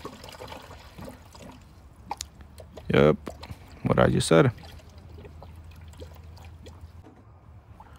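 Distilled water poured into a car radiator makes a faint, steady trickle and splash, interrupted by two brief spoken remarks.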